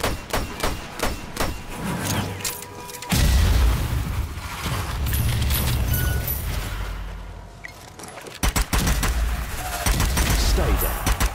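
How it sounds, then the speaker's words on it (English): A thrown grenade in Strange Brigade goes off in a loud, deep boom around the three-second mark, amid bursts of gunfire and thuds before and after, with voices talking over the combat. "tossing a grenade"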